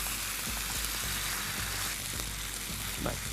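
Kalavanchi being sautéed in a pan, a steady broadband sizzle with soft low scraping knocks from stirring throughout, close and continuous with no voices.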